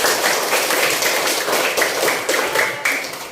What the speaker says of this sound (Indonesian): tepuk tangannya dong anak-anak